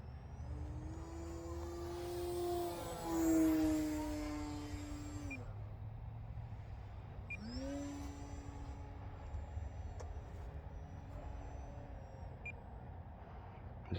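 A small electric motor on a 3D printed Sportster RC plane whines up and down in pitch, rising as it passes close and fading, then surging again, during touch and goes on a grass field.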